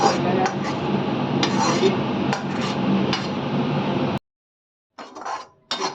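A spoon scrapes and clinks against a pan while walnut powder is stirred in ghee, a run of sharp metallic taps and rasping strokes that stops abruptly, then a few brief scrapes after a short silence.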